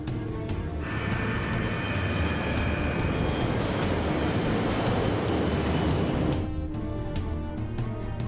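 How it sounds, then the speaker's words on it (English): The White Knight 2 carrier aircraft, with a spaceship slung beneath it, accelerates down the runway for takeoff, its engines building into a loud, sustained roar that holds steady for several seconds before cutting off sharply. "White Knight 2 and its spaceship cargo accelerate down the runway"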